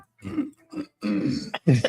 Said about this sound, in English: Let him clear his throat.